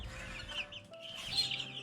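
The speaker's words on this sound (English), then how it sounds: "These are just a feisty group of little roosters." A group of young roosters on a farm cluck close by in short, scratchy bursts, a lively flock sound at moderate volume with no one talking.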